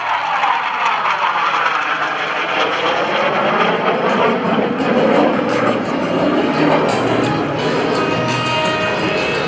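A Goshawk jet trainer passes overhead at an airshow with a loud, sustained broadband jet roar, close and steady throughout, its whine shifting as it flies by.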